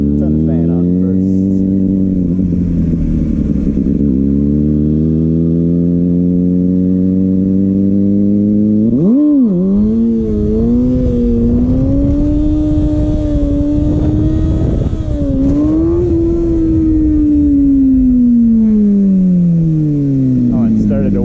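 A Kawasaki ZX6R engine revs during rolling burnouts, a loud rising and falling whine that climbs steadily, then dips sharply and surges again in repeated sweeps, with a voice heard over it.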